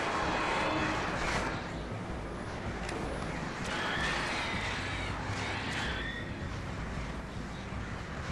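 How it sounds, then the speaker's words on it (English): Outdoors, crows caw repeatedly in harsh, scattered calls at a moderate distance over a steady broadband background of rushing wind or ambient noise. "Damn birds."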